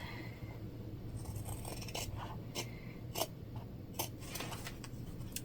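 Scissors cut through fabric for a beginner wristlet bag pattern, giving soft scraping snips and a few sharper clicks at an even pace over a steady low background hum.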